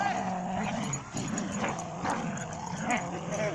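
Two dogs growl and snarl while playing tug-of-war at a dog park, the rumbling growls continuous and close, broken by short yips and whimpers, with faint voices in the background.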